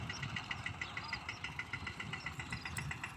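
A model 770 tractor's diesel engine runs at a steady idle, giving a low, even chugging with a fast regular knock. It is moderately distant and quiet, with no voices.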